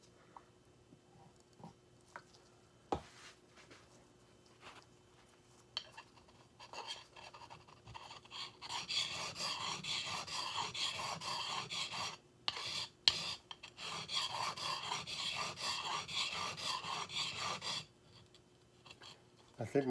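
A chisel with a tight radius is rubbed back and forth on a 45-year-old Norton sharpening stone, making a faint, close rasping scrape. Quiet gaps and a few sharp taps come first, then steady strokes run for several seconds, with a brief pause midway.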